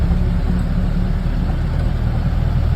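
A Nashik transport truck rumbling along a road, a steady, loud, low engine drone and tyre roar that holds evenly through the brief moment, with no voices.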